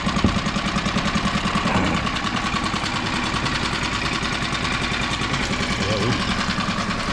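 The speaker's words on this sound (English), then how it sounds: "Just getting all the salt water out of the engine." Outboard motor on a HooDoo Hero 130 micro skiff runs steadily while being flushed of salt water after a trip, a close continuous idling drone with faint speech over it.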